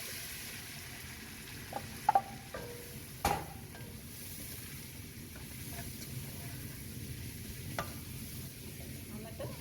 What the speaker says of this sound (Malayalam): ഇതെല്ലാം നന്നായിട്ട് ഇളക്കുക